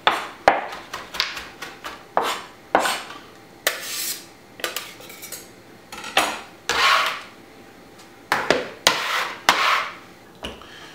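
A knife minces ingredients on a cutting board for a quinoa salad, with irregular bursts of quick, sharp chopping taps, close and clear, separated by short pauses, with no talking.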